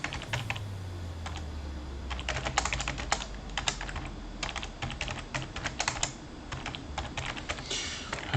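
Rapid typing on a computer keyboard, a steady stream of close, crisp key clicks with uneven rhythm and occasional louder strokes, heard alone over a low background hum.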